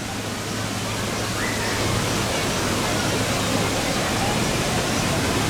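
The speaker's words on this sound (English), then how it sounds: "This actually looks like a really decent little water park, actually." Rushing, splashing water at an outdoor water park with slides, a steady broad wash of sound that is fairly loud and constant throughout.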